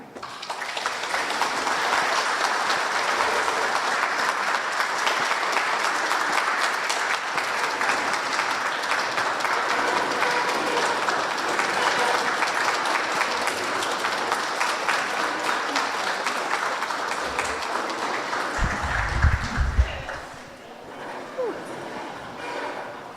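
An audience claps steadily and warmly for a speaker at a Mi'gwite'tm gathering, sustained applause for nearly twenty seconds before it thins out. A brief thump and low rumble come near the end.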